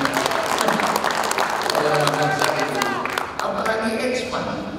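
A gala dinner audience at a Makassar newspaper anniversary claps through a burst of applause that fades toward the end, while a presenter keeps talking over it.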